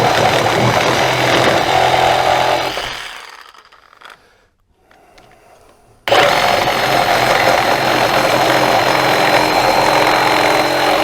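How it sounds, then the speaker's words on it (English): A Kobalt 24V brushless reciprocating saw cuts through a pressure treated 2x4, a loud steady buzzing rasp that fades as the cut finishes, goes quiet for a few seconds, then starts again at full volume. "just to show you the cutting prowess of this saw"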